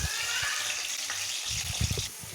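Pointed gourds (potol) frying in hot mustard oil, a steady close sizzle with soft bubbling and a few low knocks from the pan.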